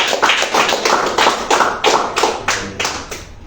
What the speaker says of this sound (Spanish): Dale fuertes palmas a Cristo